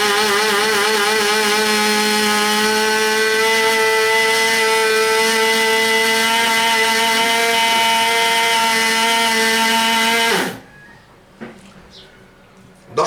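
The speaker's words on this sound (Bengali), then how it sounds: "এই 10-15 সেকেন্ড ব্লেন্ড করলেই হয়ে যাবে।" Kitchen blender whirs loudly and steadily while blending oil for naga burger sauce, a continuous high motor drone lasting about ten seconds before cutting off abruptly, followed by faint clicks.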